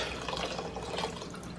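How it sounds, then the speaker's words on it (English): Vinegar pours from a jar into a cooking pot for homemade Tabasco-style hot sauce, a short continuous liquid splash and trickle heard up close without any talking. "So I'm just going to pour the vinegar in there so I can get all of the what's left in the jar out."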